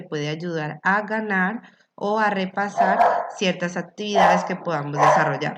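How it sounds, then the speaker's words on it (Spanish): A neighbour's dog barks in several sharp bursts, close and loud, mixed in with a person speaking steadily in Spanish. "ese es el perro del vecino"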